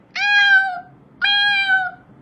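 A person's voice mimics a cat's meow, two drawn-out harmonic meows with a short gap between them, loud and close with no other talk.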